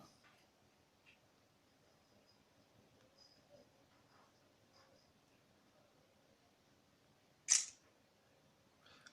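A LEAGOO M8 Pro smartphone camera fires a single short, crisp shutter click, loud against a quiet room with faint background noise.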